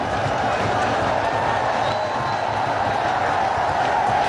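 Crowd at a Bangladesh versus Pakistan cricket match, a steady distant roar of cheering and general stadium noise that holds level throughout without a clear peak.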